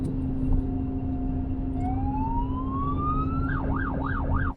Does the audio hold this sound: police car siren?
yes